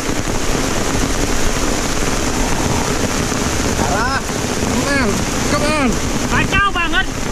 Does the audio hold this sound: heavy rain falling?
yes